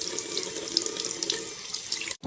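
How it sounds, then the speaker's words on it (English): Tap water runs steadily into a sink as makeup brushes are rinsed under warm water, a close continuous splashing stream that cuts off abruptly near the end. "So now I need to rinse the brushes under warm water."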